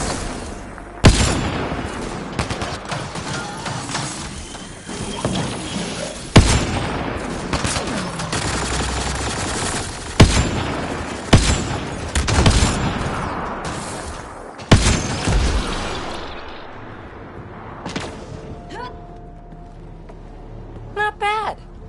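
Enemy gunfire rattles in bursts against shields during a firefight in Mass Effect Andromeda, sharp loud volleys and booms recurring every few seconds, with a voice speaking over parts of the battle.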